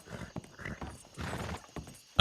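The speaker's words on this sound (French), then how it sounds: "C'est mon cheval qui fait n'importe quoi dehors, je crois." A horse outdoors clip-clops and whinnies. Uneven clusters of hoof knocks come at moderate distance and end in a sudden loud burst.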